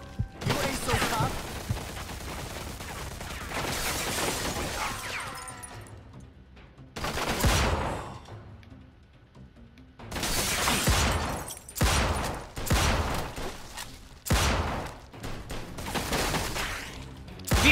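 Mafia 2 enemies open fire in repeated bursts of gunshots with short gaps between volleys, loud and close, and stretches of quieter ambience in between.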